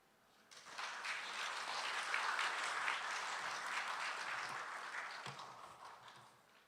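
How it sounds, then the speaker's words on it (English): A conference audience applauds to welcome a guest speaker, a sustained wash of many hands clapping that swells after a quiet start, holds steady and slowly tapers near the end. "please join me in giving a warm round of applause to welcome our esteemed guest"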